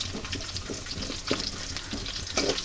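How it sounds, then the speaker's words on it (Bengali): Onions and about ten black peppercorns fry in oil over medium heat, giving a steady close sizzle broken by a few brief stirring scrapes, with no voices. "এগুলোকে খুব সুন্দর করে ভাজতে হবে পেঁয়াজগুলো বেরেস্তা নয় এগুলোকে একটু লাল লাল করে ভেজে নিতে হবে"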